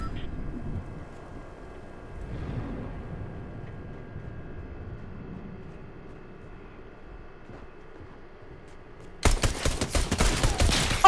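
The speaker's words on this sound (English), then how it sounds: "He missed the shot with the sniper." Rapid burst of gunfire in the Fortnite video game, a loud run of closely spaced shots breaking in near the end after a stretch of low rumbling game ambience.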